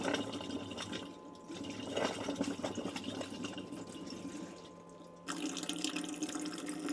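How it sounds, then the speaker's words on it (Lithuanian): Water running from the taps of a camper van as air is flushed from its plumbing, a steady rushing flow that thins and sputters, drops lower, then surges back at full strength. "praleisti biškį vandenį per kranus"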